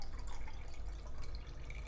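Half a cup of water is poured into a measuring cup in a home kitchen, a steady close trickle and splash lasting a couple of seconds.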